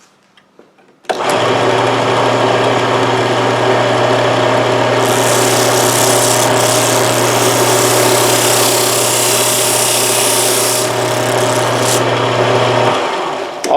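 Sanding disc shaping the volute curve on the back of a guitar headstock, a loud steady whirring motor hum with a higher grinding hiss as the wood meets the wheel, running continuously before cutting off.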